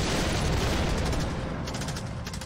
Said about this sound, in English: I want to hear that infantry attack sound